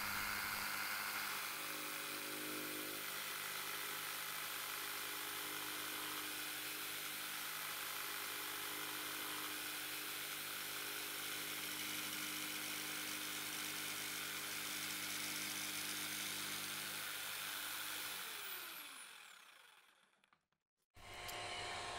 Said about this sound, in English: Then I will drill starter holes for my jigsaw, and then jigsaw close to the line